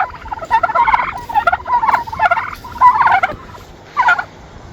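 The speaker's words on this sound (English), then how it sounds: "I love me some turkey talk." Turkeys gobble in a barn in several loud, rattling bursts that repeat in quick succession, close to the listener, with no talking over them.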